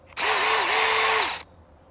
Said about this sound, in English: That's a drill bit right there.